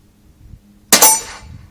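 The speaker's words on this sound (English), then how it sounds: "I'm shooting at some metal targets here." A single sharp metallic clang as a .22 LR round from a Marlin Model 60 rifle strikes a metal target outdoors, a loud ringing hit that decays quickly.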